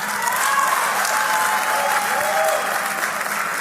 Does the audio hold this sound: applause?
yes